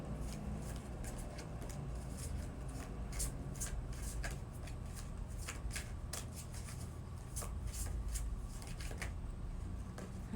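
Tarot cards shuffled for a love reading make a steady, close rustle with repeated sharp riffles and flicks, alone and without talk.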